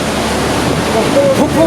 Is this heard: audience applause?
no